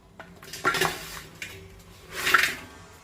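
Jaggery lumps drop into a large metal pot with a few close clinks and rattles: a cluster of knocks early on, a light tap, then a longer scraping clatter.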